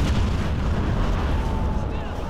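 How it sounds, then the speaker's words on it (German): A loud in-game explosion in the shooter Crysis rumbles as one sustained, heavy low boom with a long rolling tail lasting the whole stretch, no voices over it. "Also gerade was definitiv richtig krass in die Luft geflogen. Habt ihr den Knall gehört?"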